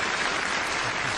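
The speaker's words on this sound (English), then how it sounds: "Give him a round of applause." A studio audience on a live paranormal television show applauds, a brief dense burst of clapping filling the whole moment at steady loudness.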